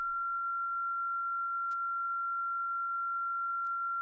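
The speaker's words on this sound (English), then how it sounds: "So if I play it, you'll actually hear an occasional click from this instantaneous change." A synthesizer pulse wave sustains one steady, pure-sounding tone, broken by two brief sharp clicks from instantaneous waveform changes, with no other sound.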